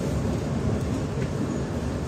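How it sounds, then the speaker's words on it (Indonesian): The Tegal Bahari passenger train runs along the line, heard from inside a carriage as a loud, steady low rumble and rolling hum that continues without break and without talk. "Jadi segitu dulu teman-teman perjalanan dengan kereta api Tegal Bahari ini"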